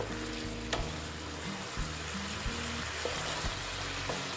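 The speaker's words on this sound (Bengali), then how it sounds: "এটার সঙ্গে আবার একটু কষিয়ে নিচ্ছি পটলের সঙ্গে" Pointed gourd sautéed in a pan for a vegetarian doi potol dish, a quiet, even sizzle with soft periodic spatula taps and stirs, close by and without speech.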